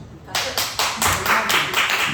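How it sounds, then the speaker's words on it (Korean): Church congregation applauding during a Wednesday worship service, a run of clapping bursts that starts abruptly and carries on steadily, fairly close and full. "박수"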